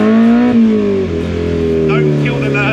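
A 650 kg Mini Clubman with a K-series engine swap, around 240 horsepower, revving hard and climbing through the gears with a high, motorbike-like engine note, loud and close, with people talking over it.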